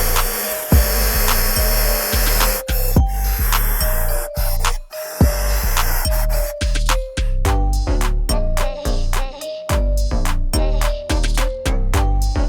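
Plastic drum being cut to fit switches and a socket for a homemade air cooler, heard as loud, repeated rasping cutting strokes in a steady rhythm, close up, with no talking.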